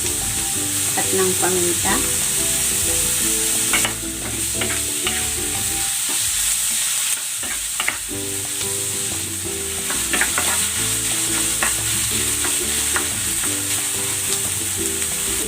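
Ground pork frying and being stirred in a pan, with a steady loud sizzle and repeated scraping of the spatula throughout, and a brief spoken phrase near the start.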